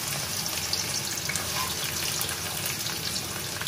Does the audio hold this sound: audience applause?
no